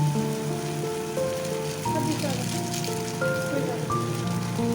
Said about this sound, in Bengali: ফুলকপি আলু দিয়ে ভালো করে মশলার সাথে কষিয়ে নিচ্ছি